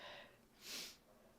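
A single short sniff, quiet and close, a brief breathy intake in otherwise still surroundings.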